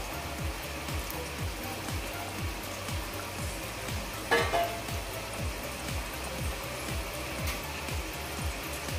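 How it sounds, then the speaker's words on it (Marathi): Pieces of churma ladu dough frying together in hot oil, a continuous close crackling sizzle like rain, with a brief louder bubbling surge midway. "त्यामुळे मी हे सर्व एकत्र टाकते फ्राय करायला"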